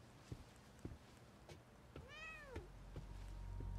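A cat meows once with a clear rising-falling cry in the video game The Medium, heard among sparse soft footsteps or clicks in a quiet, faint setting.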